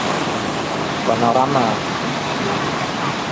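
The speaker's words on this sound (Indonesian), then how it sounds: "pantai di Kota Calang dengan deruk ombak yang indah menawan" Ocean waves on the open sea at the beach in Calang, Aceh Jaya, giving a steady broadband surf roar throughout, with a voice speaking briefly over it.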